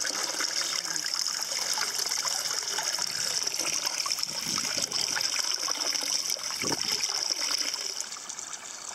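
Water spills from a waterfall into a koi pond in a steady, close splashing rush that runs without a break and with no voices.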